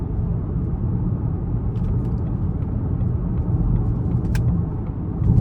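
A 2024 Lincoln Corsair Reserve II with a 2.0T engine accelerates onto an interstate in its sport drive mode, a steady deep cabin rumble that swells slightly near the end, with no talking.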